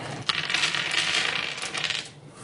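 Percentile dice for a tabletop roleplaying game pour out onto a surface in a continuous rattling clatter lasting about two seconds, close and fairly loud with no talk.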